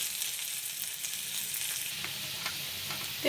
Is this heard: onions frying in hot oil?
yes